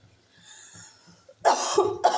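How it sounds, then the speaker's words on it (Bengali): A person coughs in a home kitchen during cooking: faint low background sounds at first, then two loud, rough coughs close to the microphone, the second short and following quickly. "আমারও একটু কাশি হয়ে গেল,"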